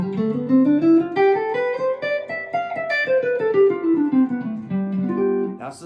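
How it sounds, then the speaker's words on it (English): Guitar sounding a dominant seventh chord with Mixolydian-mode melodic lines rising and falling over it, played steadily and up close for several seconds with no voices. "That's the sound of a dominant 7 chord."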